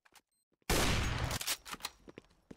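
A dense burst of rapid gunfire in an esports video game match, loud and close for under a second, followed by a few quieter scattered shots and clicks.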